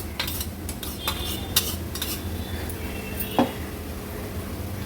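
Ground masala paste sautéed with onions in a pan for an Agri Koli style fish meal, with soft frying hiss and several clinks and scrapes of a utensil stirring, close up.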